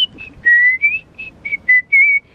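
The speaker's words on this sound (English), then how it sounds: "That wasn't a very good whistle" Human whistling in a series of short, bright, clear notes, some wavering in pitch, close and alone with brief gaps between.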